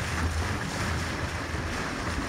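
A shanty boat backs out on open water, a steady low motor drone blended with heavy wind buffeting and wash, constant and close throughout.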